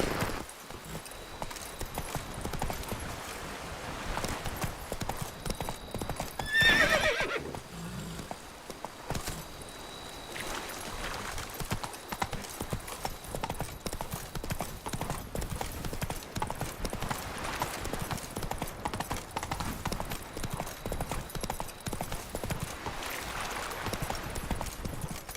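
Horse hooves clip-clop at a steady gallop through the whole stretch in The Witcher 3 video game, with background game ambience and a brief louder burst partway through.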